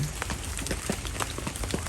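Steady rain falls outdoors through a long day, a dense even patter of drops on surfaces with scattered sharper taps, continuous and fairly close.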